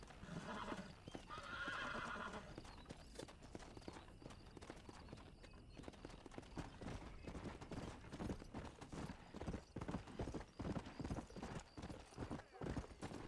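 Horse hooves clip-clop steadily in Red Dead Redemption, a rhythmic run of close hoofbeats with a whinny early on and speech mixed in over the gallop.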